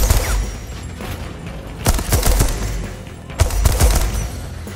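Bursts of gunfire ring out in Deathloop, two sharp volleys standing out against a steady rumble of ambient game noise, with no voices over them.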